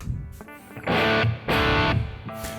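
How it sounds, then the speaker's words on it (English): Electric guitar through a distortion effect, the kind used for Iron Maiden's "The Writing On The Wall", played in loud sustained bursts of thick, buzzing tone with short lighter gaps between them, heard alone with no talking. "now I'm gonna go to another distortion here"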